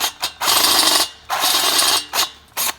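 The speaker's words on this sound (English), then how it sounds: "So we're going to drill it out." A power drill bores out a bolt in an LS engine block near the cylinder head, running in loud bursts of about half a second to a second, stopping between passes.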